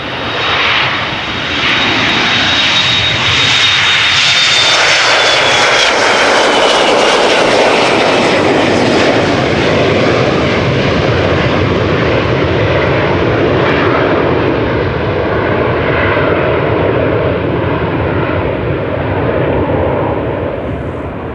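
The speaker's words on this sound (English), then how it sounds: "A380 in the vicinity of Lelystad." An Airbus A380 departing near Amsterdam Schiphol Airport, its engines a loud, close, sustained roar with a high whine early on that fades as the broad rumble continues steadily.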